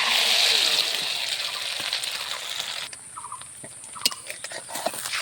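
Another ladle of beaten egg batter poured into hot mustard oil, a loud frying hiss at first that quickly drops to a lighter crackle with scattered pops and utensil clicks.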